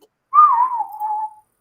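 A person gives one clear, loud whistle lasting about a second, rising briefly then sliding down and holding steady, imitating the call of the Otterman, a legendary shape-shifting creature; silence surrounds it.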